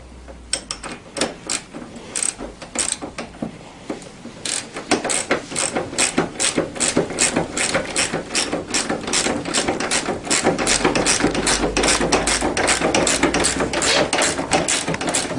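A socket wrench ratchets rapidly while tightening the steering column nut on a Tao Tao CY50A scooter, a long close run of sharp metallic clicks in quick bursts that turn into a dense, steady clatter.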